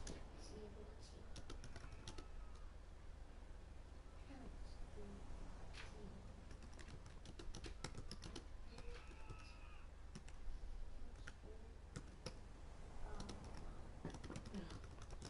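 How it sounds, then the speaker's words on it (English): Quick, irregular keystrokes on a computer keyboard click steadily and fairly quietly throughout, with voices talking intermittently in the background. "Let's get on typing."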